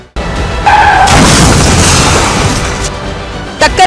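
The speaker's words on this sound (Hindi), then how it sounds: "कार से टक्कर के बाद ई रिक्शा ऐसा पलटा जैसे वो प्लास्टिक का कोई खिलौना" Car slamming into an e-rickshaw on a road in Uttar Pradesh, a loud, close impact burst that fades into a long noisy crunch and rattle, ending with a brief sharp clatter.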